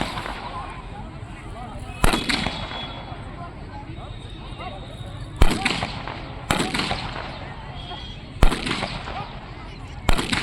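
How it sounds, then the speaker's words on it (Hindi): Soldiers in the third row fire rifles one after another during a Republic Day ceremony at Oval Ground, Chittaranjan, producing five sharp reports spaced roughly two seconds apart over an outdoor crowd hum with commentary in the background. "थर्ड रो में बाएं से दाएं तरफ एक एक जवान फायरिंग कर रहे हैं"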